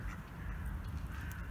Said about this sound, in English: This is Larry the Duck. He's been following us around